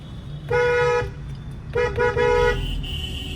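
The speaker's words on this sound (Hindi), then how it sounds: "हॉर्न बजाती हुई शै शै।" A car horn blares while driving at high speed: one long honk, then a pause and a quick double honk, loud and close over a low engine and road rumble.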